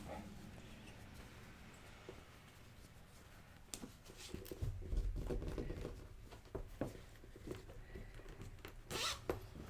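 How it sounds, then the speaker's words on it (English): A zipper is pulled along in a few short scratchy bursts, close up, with soft handling noises in a quiet room. "Let's zip our zipper back up."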